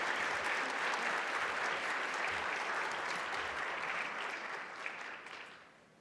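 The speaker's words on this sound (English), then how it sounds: "Another round of applause." An audience at a social work education conference applauds after an award presentation, with dense, sustained clapping that fills the room evenly before tapering off at the end.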